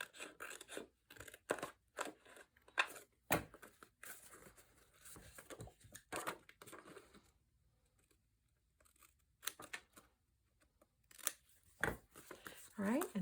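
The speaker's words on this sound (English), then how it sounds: "I'm just going to trim this." Paper scissors trim pumpkin-patterned scrapbook paper for an autumn tag, a series of short crisp snips and cuts in bursts, with someone talking over and between them.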